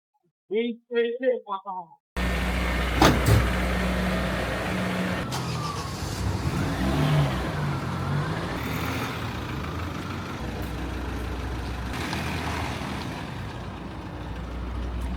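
Car driving on a road at night on the way to a winter lakeside camp in Gerede, Turkey, heard from inside as a steady low engine and road rumble, preceded by brief talk in the first two seconds.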